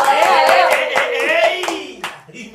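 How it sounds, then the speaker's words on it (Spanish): Scattered hand clapping from a small group greeting a guest, several sharp claps over a couple of seconds mixed with cheerful voices and talk. "un aplauso para la segunda rubia de farmacia"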